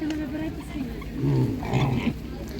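Pigs grunt and squeal at a livestock market, close and irregular, mixed with people talking nearby.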